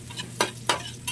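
Chopped onion and garlic sizzle in a hot pan for a Filipino pakbet, a steady close frying hiss broken by a few sharp scraping stirs of a spoon against the pan, no voices.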